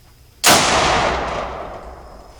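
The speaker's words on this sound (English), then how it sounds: "I'm actually shooting down at 100 yards" One loud rifle shot cracks out at an outdoor shooting range, fired from a scoped rifle at a target 100 yards away, followed by a long rumbling echo that slowly fades.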